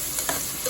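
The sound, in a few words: stir-frying garlic and onion in a pan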